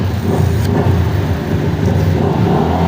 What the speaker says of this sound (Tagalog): medyo maingay mga motor